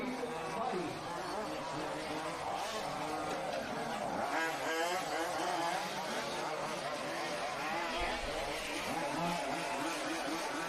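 Large scale off-road RC cars race at a European championship final, their engines buzzing and whining continuously as they rise and fall through corners, while a commentator talks over the steady track noise.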